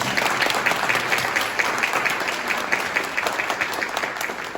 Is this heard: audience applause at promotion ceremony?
yes